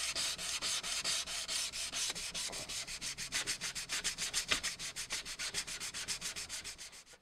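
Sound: hand sanding with 150 grit sanding block

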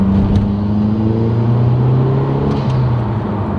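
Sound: car revving with Corksport exhaust

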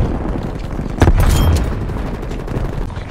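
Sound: frag grenade explosion in Call of Duty Cold War video game

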